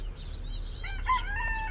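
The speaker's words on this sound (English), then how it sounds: "you get roosters." A rooster on a small poultry homestead crows once in the distance, a faint, thin cock-a-doodle-doo over low steady background noise.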